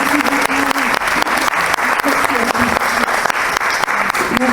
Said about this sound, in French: on va applaudir Charlotte,